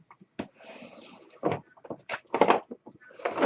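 A drawer of craft supplies holding ink pads and re-inkers slides shut in a series of short wooden clunks and scrapes, with quiet gaps between them and no talk.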